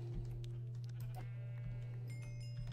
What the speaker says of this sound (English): Let's kill a sheep.